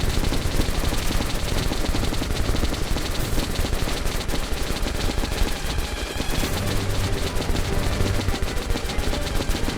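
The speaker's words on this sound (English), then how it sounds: "I was given a minigun" A minigun in Metro 2033 fires continuously and loudly in a dense, unbroken rattling stream throughout, with no talk.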